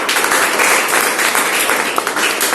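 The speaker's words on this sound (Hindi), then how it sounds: "एक बार ताली बजाइए।" Audience applause at a National Science Day science exhibition event, loud, steady clapping from a crowd that fills the whole short stretch without a break.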